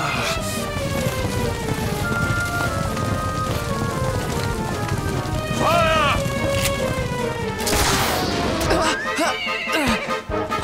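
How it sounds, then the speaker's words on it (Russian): Horse in Dragon Quest XI neighing twice in quick succession over hoofbeats and a steady wash of rain, with game music and speech underneath. "На лошадь садимся."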